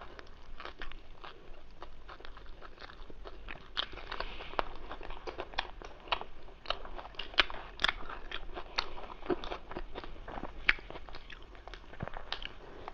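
Close, crisp bites and steady chewing on chicken biryani, butter naan and paneer butter masala, with repeated short crunchy clicks and moist smacks running throughout and no talking.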